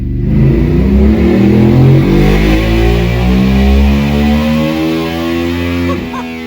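A custom Monster 1200 motorcycle runs hard on a dyno, its engine roaring loud and close as revs climb steadily through a long pull before easing off at the end.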